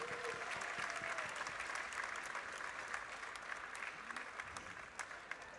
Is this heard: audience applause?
yes